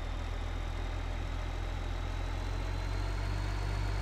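A small tractor engine in Farming Simulator 2015 runs steadily at a low idle-like drone, constant and even throughout with no talk over it.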